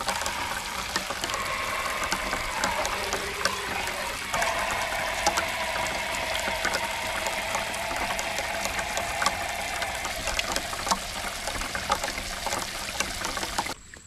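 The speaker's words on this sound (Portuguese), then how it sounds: "E agora eu vou lavar a louça, então. Lavar no chuveirinho, lá no nosso chuveirinho, que escorre água direto." Dishes washed under a small shower head inside a mini motorhome: water runs steadily for the whole stretch, with faint clicks and light clatter mixed into the continuous flow and no voices.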